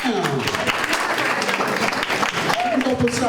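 An audience claps together at a healthcare summit, a steady, fairly loud round of applause with voices calling out over it.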